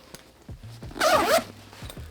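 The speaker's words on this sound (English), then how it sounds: "And then we had some front pockets, one zipper" A zipper on the front pocket of a heavy-duty concealed-carry tote bag is pulled in one quick, close rasping run, surrounded by a few soft handling taps.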